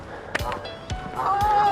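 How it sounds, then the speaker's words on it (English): Several short honks from geese in the distance across a canal, scattered and irregular over a steady background hum. "Plenty of geese, as you can probably hear."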